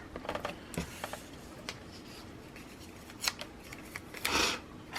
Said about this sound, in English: this is a Fiskars Precision Heavy Duty Paper Trimmer